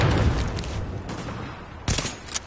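Shotgun fire in The Division video game: a dense, loud burst of gunfire at the start, then two sharp separate blasts later on, with no talking.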